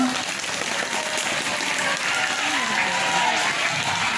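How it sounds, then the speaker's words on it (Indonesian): Sustained audience applause at a cultural event in Indonesia, a dense, steady wash of many hands clapping at even loudness throughout, with faint voices mixed in. "Tepuk tangannya dulu dong."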